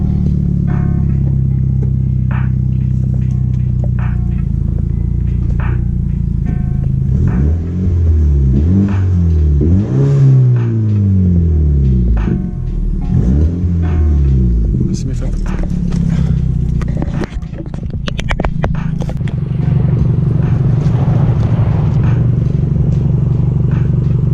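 A modified BMW F30 328i engine rumbles steadily throughout while warming up, with rising and falling revs in the middle as the throttle is blipped, and some clatter near the end.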